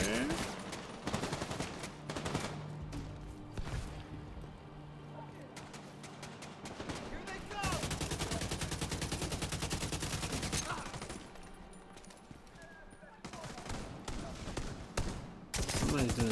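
A heavy gun fires in The Division 2, with long rapid bursts and fusillades of gunfire that stop and start, sometimes distant and sometimes close, while someone talks over parts of it.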